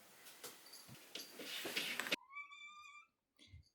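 An orange cat gives a clear, rising meow after a stretch of rustling and shuffling noise, followed by a short quieter sound near the end, heard close up with no talking.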